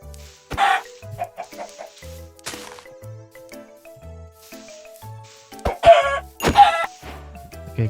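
Chickens clucking in the Minecraft video game: several short, separate clucks spread through the stretch, including a louder burst near the end.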